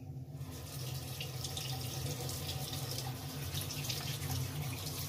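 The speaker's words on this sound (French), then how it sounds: "Et je me rince le visage." Steady stream of water running from a bathroom sink tap while the face is rinsed, a continuous close splashing hiss with no voices.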